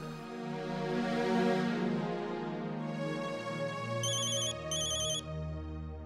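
A phone ringtone plays while someone is being called in a Marathi TV serial, a melodic electronic tune with tonal beeps, fairly loud and continuous with no talking.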